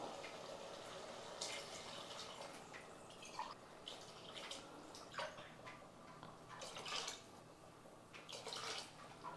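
Water splashes and trickles into a pot of chicken biryani with rice in uneven bursts, close by, with a steady low hiss underneath and no talking.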